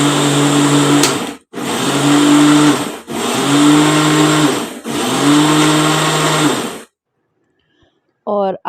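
A kitchen blender grinds boiled tomatoes into gravy in four loud, whirring bursts separated by short pauses, then goes quiet. A faint clink sounds at the end.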